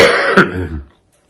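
A single harsh cough, close and loud, breaking into a rough throat-clearing rasp that fades out into silence.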